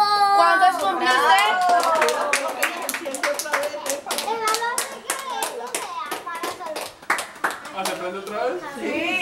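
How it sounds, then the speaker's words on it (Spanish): Applause and bright, rapid clapping at a child's third birthday party, loud and close, with excited children's and adults' voices cheering over and around it throughout. "Un aplauso a Coco"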